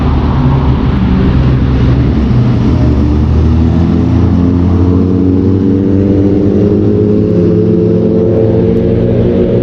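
A loud modified KTM RC 390 motorcycle engine roars close by during a morning ride in Delhi, a sustained heavy drone with rising and falling revs throughout.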